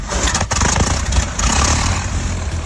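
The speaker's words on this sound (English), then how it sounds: "Under here, you'll find a 14-litre, yes, 14-litre 4-cylinder engine, producing 80 horsepower, which for 1903 was basically witchcraft." A 1903 car's huge 14-litre four-cylinder, 80-horsepower engine running with a steady, heavy, loud roar and rough low-end pulsing throughout, alone with no voices.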